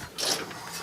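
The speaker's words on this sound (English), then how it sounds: "Hand me a 3/8, my 3/8 ratchet" A 3/8 ratchet is turned briefly during rear differential spider gear work, giving a short burst of close, raspy mechanical clicking with no talking.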